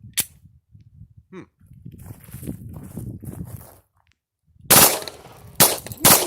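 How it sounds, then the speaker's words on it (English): A full-auto P80-built Glock pistol at a shooting range fires short sharp bursts near the end, after quieter handling and shuffling noises; the shots are loud and close. "Full auto. That's a full auto Glock."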